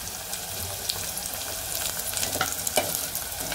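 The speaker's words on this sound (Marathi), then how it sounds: "हा लसूण पण भाजला गेला पाहिजे, कांदा पण भाजला गेला पाहिजे" Chopped onion and garlic fry in a hot pan with a steady, close sizzle that runs throughout, broken by a few sharper crackles and light stirring scrapes.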